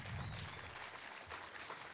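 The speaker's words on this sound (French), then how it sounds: "Tonnerre d'applaudissements aussi pour monsieur Jean-Michel Roux." An audience at a short film festival closing ceremony applauds in a steady, distant, fairly faint wash of clapping with no speech over it.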